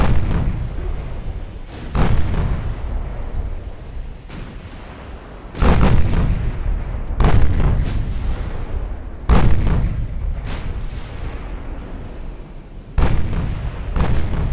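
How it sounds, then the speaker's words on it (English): Naval guns fire at heavy cruisers in the Ultimate Admiral Dreadnoughts naval battle game. Five or six loud booming salvos come every couple of seconds, each followed by a rumbling decay over continuous low battle noise. "I'll continue to pound these heavy cruisers, though."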